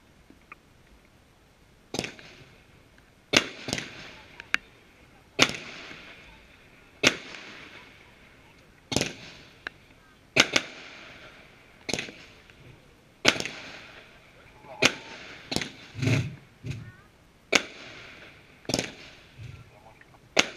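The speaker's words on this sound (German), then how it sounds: "Weiße Blinkpuppets immer im Wechsel geschossen. Kaliber 25 mm, 10 Schuss." A 25 mm fireworks battery fires white strobe shells, about ten sharp, loud launch thumps and cracks at irregular intervals of one to two seconds, each followed by a brief hiss and faint crackle over quiet outdoor background.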